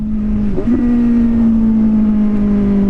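A Suzuki GSX-S750 motorcycle with a race-fit exhaust holds near 9000 rpm, making a loud, steady, close engine drone that dips briefly once before settling back to an even pitch.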